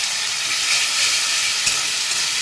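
Onions frying in a pan with ginger-garlic paste give a dense, even sizzle and hiss. It sounds steady and close, with faint stirring and no one talking.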